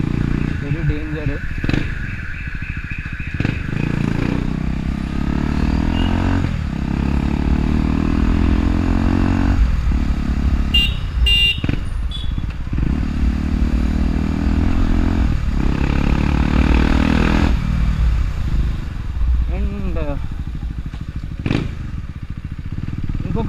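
A KTM Duke 250 motorcycle runs with no silencer fitted, its open exhaust revving loud and close in repeated rising and falling bursts that fill the whole stretch, with people talking underneath.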